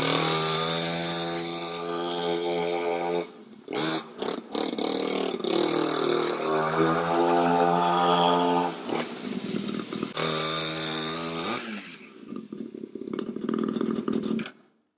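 A cheap Amazon dirt bike rides on tarmac, its small buzzy engine revving loud and close with rising and falling pitch and brief dips in power. The engine sputters down and cuts out at the end.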